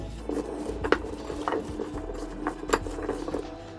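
Chicken, carrots and potatoes are mixed with coconut oil and a seasoning mix in a bowl, giving soft clinks and scrapes of a utensil against the dish at an irregular pace, close and fairly quiet.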